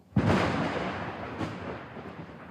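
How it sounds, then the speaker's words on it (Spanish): Thunder from lightning, a sudden loud crack that rolls into a long, deep rumble, with a second swell before it fades. "El trueno es inseparable del rayo."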